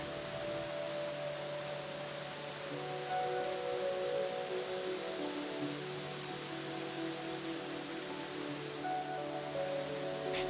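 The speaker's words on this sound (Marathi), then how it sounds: "काळ्या खडकांवर आपटणारं धोधो वाहत खाली येणारं पांढरशुभ्र पाणी पाहण्यात मज्जाच वाटत होती" A waterfall crashes onto black rocks, a steady, distant roar of rushing water filling the clip, with a faint low hum beneath it, continuous and unchanging.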